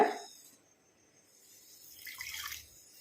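Water splashes briefly at the start, then a quiet gap before a soft pour of liquid trickles in for about a second, faint and close.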